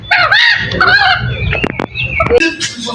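Two desi chickens cluck and squawk in several short bursts close by, over a low background rumble with some faint voices.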